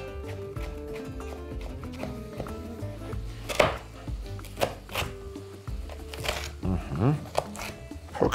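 Knife chopping on a board while making a pork rib dish with sauerkraut, irregular close thuds and clacks mixed with kitchen handling and a person talking throughout.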